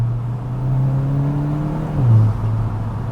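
A VW Golf MK8 GTI fitted with an AWE exhaust revs in sport and manual mode, a steady low engine drone that climbs briefly around a downshift before settling, heard close with no talking.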